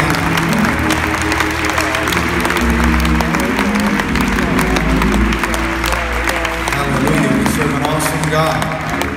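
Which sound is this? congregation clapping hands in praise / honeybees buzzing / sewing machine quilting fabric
congregation clapping hands in praise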